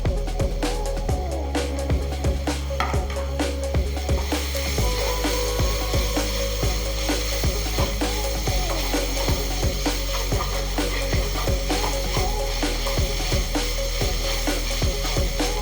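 Three spicy green chillies sautéing in a pan for a Kerala-style chicken curry, a steady soft sizzle with frequent sharp crackles and pops throughout, no voices.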